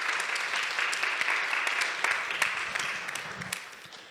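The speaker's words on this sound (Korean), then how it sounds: "박수로 감사 인사할까요?" Congregation applauding in a church service hall, a steady wash of many hands clapping at moderate loudness for about four seconds, with no talk over it.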